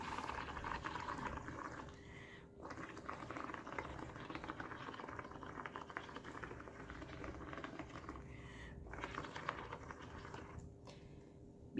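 Ceramic glaze slip thinned with extra water and extra engobe bubbles and fizzes continuously, a dense crackling patter of tiny bursting bubbles heard close up and quiet, with no voice over it.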